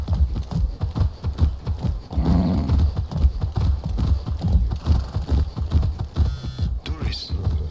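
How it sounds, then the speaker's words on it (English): Horse hooves clip-clop at a steady trotting rhythm in the video game Far Cry 6, close and continuous, with a brief whinny and some rustling mixed in. "That's a good horse."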